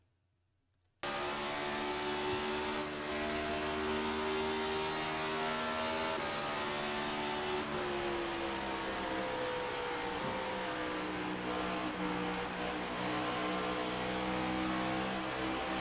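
Mustang race car from the Darkside Mustangs A2 Cup sim racing series at the Florida 200, heard from the number 74 car's onboard view. After a second of silence, a loud, steady engine drone holds at high revs throughout, with slight shifts in pitch.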